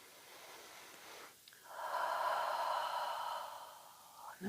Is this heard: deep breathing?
yes